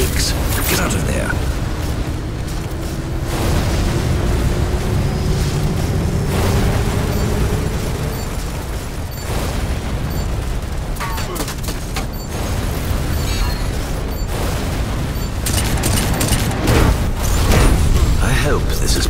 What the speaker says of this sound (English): Those explosions have caused flammable gas leaks.